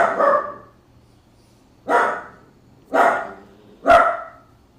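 A dog barks four times, loud and close, each sharp bark separated by a second or more of quiet, with a faint low hum underneath.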